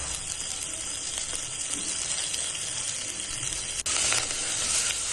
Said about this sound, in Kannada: ಆಮೇಲೆ ಇವನ್ನೂ ಸ್ವಲ್ಪ ಫ್ರೈ ಮಾಡ್ಕೋಬೇಕು.